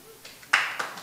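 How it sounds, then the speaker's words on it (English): An audience at a talk at the 2012 Bitcoin Summit breaks into a short burst of clapping partway through, a sudden close patter of many hands that follows a quieter moment. "I like when you guys clap"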